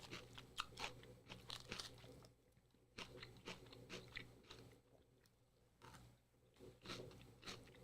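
Crunchy food bitten and chewed after a long fast, a run of sharp, close crunches in bursts with a short quieter pause midway, then more chewing.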